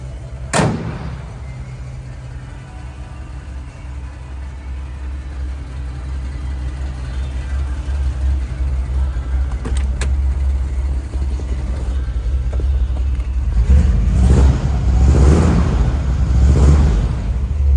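A restored 1957 Chevrolet Bel-Air V8 engine runs steadily at idle with a low, continuous rumble, a sharp door or hood thud near the start and a few faint knocks, rising slightly toward the end.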